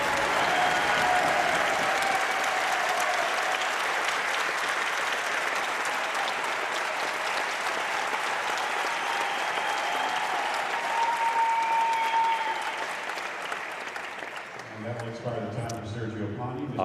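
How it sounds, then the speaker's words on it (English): At the Vegas Shoot archery championship shootdown, a large indoor crowd cheers and applauds loudly and steadily, then the noise tapers off as a commentator begins talking near the end. "Obviously, a cheer from the crowd."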